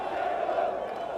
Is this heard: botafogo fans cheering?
yes